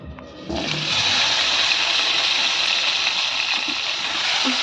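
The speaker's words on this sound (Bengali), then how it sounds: "তেলটা গরম হয়ে গেছে, এবার আমি সিদ্ধ করা আলুগুলো দিয়ে দিচ্ছি" Boiled potatoes drop into hot oil for aloo dum, setting off a sudden loud hiss that jumps up after a quiet moment and holds as a dense, steady sizzle.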